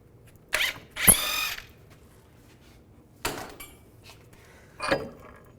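A ratchet wrench working a nut off the steering knuckle of a 2002–2009 Chevy Trailblazer, heard as four short bursts of rapid clicking separated by pauses, close and fairly loud with no talking.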